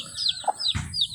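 A mother hen leading her chicks gives soft, close clucks and a few brief high peeps, short and quiet.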